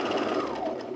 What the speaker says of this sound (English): when you're overlocking side seams